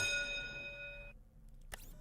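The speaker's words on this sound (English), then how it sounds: "Bell ringing." A bell rings once in a video game, a clear ringing tone that decays over about a second, then a faint clack follows.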